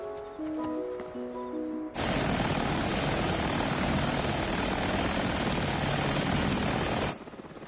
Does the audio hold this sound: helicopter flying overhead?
yes